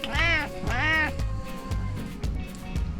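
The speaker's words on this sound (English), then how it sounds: "Such an amazing kitty." Pet cat meowing twice in quick succession, close and clear, with rising-falling cries indoors at home, followed by softer background sounds.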